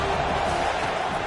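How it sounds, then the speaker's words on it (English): Stadium crowd roar from the Madden football video game rises on a 3rd and long, a steady, dense wash of cheering that fills the whole moment with no break. "Here comes the crowd trying to make it tough on 3rd and long."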